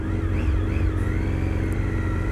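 A motorcycle engine in a video game hums steadily and close, with a slight wavering rise and fall in revs, continuous and without speech.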